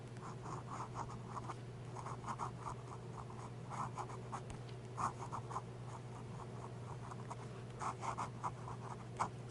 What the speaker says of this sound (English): Let me do the upside down writing before I forget on this medium nib real quick.